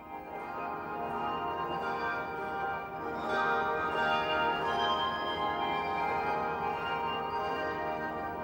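A dense wash of many handbells ringing together continuously at a handbell festival, bright overlapping tones swelling slightly louder midway and sustaining throughout with no voices.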